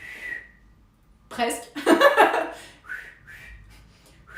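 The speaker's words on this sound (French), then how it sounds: "Je sais siffler." A person attempts whistling: a few thin, breathy whistled tones at the start and end around a burst of laughter and chatter, close and informal, with a brief spoken word in French.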